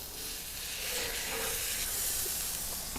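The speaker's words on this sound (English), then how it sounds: "I'm ready to put the hamburger patties on the griddle." Crab cheeseburger patties sizzle on a Blackstone griddle over low heat, a steady broadband hiss with a soft rise in the middle and no talking.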